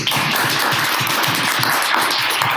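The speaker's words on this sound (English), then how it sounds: "Other than that, Cris, with big applause, welcome." An audience at a talk on customer experience design applauds to welcome a speaker, with dense, even clapping at a steady level through the clip.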